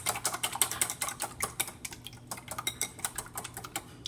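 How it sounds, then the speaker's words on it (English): A whisk beats eggs for an omelette in a bowl with quick, light, irregular clicks and taps close by, faint and steady throughout, with no talking. "we're gonna give these eggs a nice good whisk"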